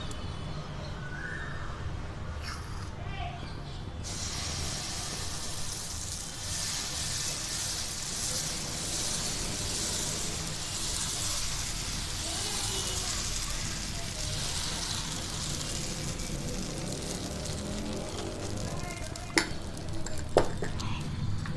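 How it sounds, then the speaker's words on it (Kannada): Dosa batter spread onto a hot griddle pan, a broad sizzling hiss swelling after a few seconds and holding steady, with a couple of sharp clicks near the end and a voice speaking at times. "ಇವಾಗ ಹೆಂಚು ಕಾದಿದೆ ದೋಸೆ ಹಾಕೋಣ"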